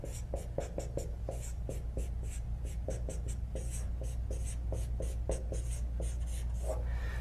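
A pen scratches out handwritten notes on paper in a quick, irregular run of short strokes and taps, close and steady, with no talking.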